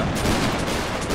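Musket gunfire in a Napoleonic Wars siege battle video game, a dense, loud burst of shot noise filling the whole moment with no talk over it.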